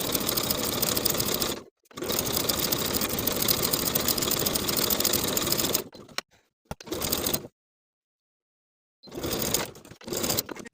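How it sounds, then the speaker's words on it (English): A sewing machine stitches the facing edges of a boat neck sweater, running in long steady bursts with short pauses between, close and loud with no talking. "we're going to start sewing from the dot, back stitching to secure to the bottom of the front piece"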